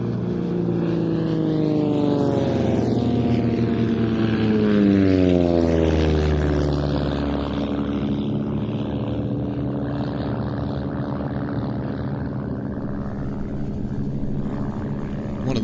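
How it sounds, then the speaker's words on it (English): Synchro pair of aerobatic propeller planes at an airshow roaring past, loud engine drone sweeping downward in pitch as they pass close, then fading to a steady distant hum. "Gerald and Russ, the synchro pair, are turning back around to fly towards each other with a closing speed of over 400 miles per hour."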